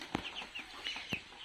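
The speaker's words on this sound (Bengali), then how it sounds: "এই যে দেখেন আমার এই চীনা হাঁসের বাচ্চাগুলা" Chinese duck ducklings in a cage give quiet, high peeping calls in a loose series, with a couple of brief knocks in between.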